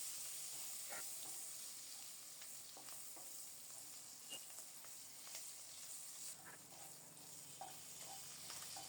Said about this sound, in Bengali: দারুণভাবে চিংড়ি মাছটা ভাজা হয়ে গেছে, সাথে কাঁচামরিচগুলো দিয়ে দিলাম।